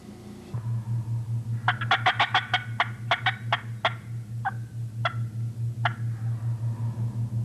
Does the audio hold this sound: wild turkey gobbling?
yes